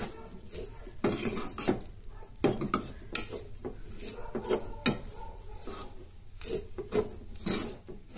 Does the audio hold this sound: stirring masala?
yes